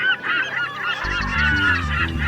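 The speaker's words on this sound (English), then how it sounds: "The amount of bird life on this coast is quite amazing. There are thousands of them." Seabirds call on the coast of northern Norway, giving loud honking, goose-like cries close by in a dense overlapping chorus.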